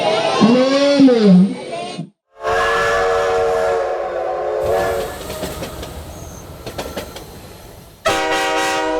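Train whistle and locomotive sound effect in a children's church song-and-dance setting. A sung voice comes first, then a loud, sustained harmonic whistle blast with rail rumble, a short gap, and a final bright whistle burst at the end.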